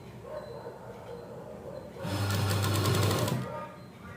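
A sewing machine stitches a cross strip onto a blouse in one loud, fast whirring run of about a second and a half, preceded by quiet background and faint talk.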